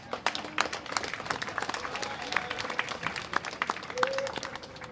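A round of applause from an audience at a scholarship awards event honoring program leaders, many hands clapping together at a steady pace, with a few faint voices and brief tones underneath.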